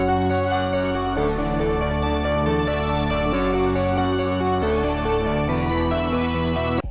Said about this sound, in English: Altogether, here's how the melody sounds.